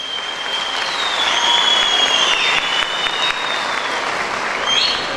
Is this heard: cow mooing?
no